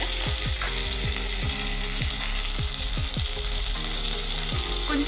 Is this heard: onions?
yes